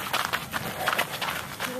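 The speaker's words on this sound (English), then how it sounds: "You ever have a goat in your path?" Hooves of a goat clop irregularly on a dirt running trail, a quick patter of steps close by while people talk over them.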